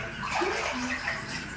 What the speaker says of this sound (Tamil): திறக்க திறக்க தண்ணி நிறைய உள்ள வருது.